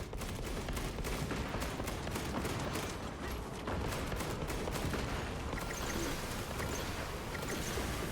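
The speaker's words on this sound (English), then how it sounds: "The Titan launches its missiles." A Titan war machine fires a missile barrage in a sci-fi video game against Tyranid enemies. It comes across as a dense, continuous roar of rapid blasts and rumbling that stays loud and unbroken for the whole stretch.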